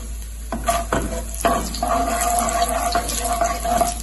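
Jackfruit seed halwa with raisins is stirred in a pan over the flame, a close, wet scraping and bubbling sound with repeated spoon strokes and a soft low hum underneath, no voices.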